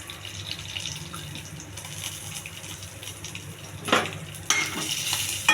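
Cumin, mustard seeds, curry leaves and onions fry in a tempering pan, giving a soft, steady sizzle with a brief louder burst of crackle near the end.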